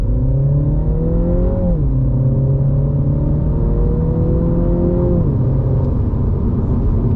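An F56 Mini Cooper S engine in sport mode revs loudly and steadily, its pitch dropping sharply twice as gears shift down, with a constant close drone throughout.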